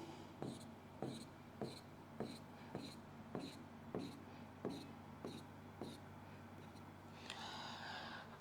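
Chalk or a marker taps and scratches on a board during an f-block chemistry lesson, about a dozen short, evenly spaced strokes that sound faint and nearby, followed by a brief rubbing sound at the end.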